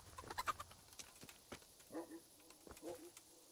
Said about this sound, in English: Hello, chickens.